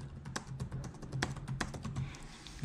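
Fast, continuous typing on a computer keyboard at close range, a steady patter of crisp key clicks with occasional heavier strokes, heard alone without any talking.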